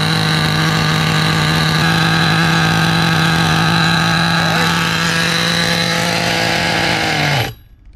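A nitro RC car engine idles loudly and steadily for several seconds, a rough buzzing drone that holds on, then cuts out abruptly near the end as the idle is lowered; no talking.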